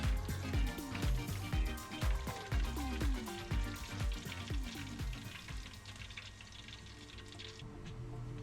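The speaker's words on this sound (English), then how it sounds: "now it's time to fry my shrimp balls again." Oil crackles and bubbles vigorously as shrimp balls deep-fry at about 150°C, with some clinks and stirring noises early on before the sizzle settles into a softer hiss.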